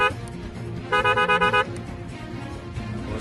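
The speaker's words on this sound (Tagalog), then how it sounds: "Rapid siya na loud horn." A snail-type horn on a Honda Wave 125 motorcycle gives a rapid burst of about five short, loud pulses in the middle of the clip, with engine noise underneath.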